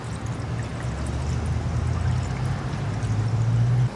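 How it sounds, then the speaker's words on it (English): A 50-50 mix of antifreeze and water pours into the radiator of a Jeep Wrangler JK with a 3.8L V6, a steady, close, gurgling stream that keeps running without a break. "you can fill the radiator with a 50-50 mix of antifreeze and water"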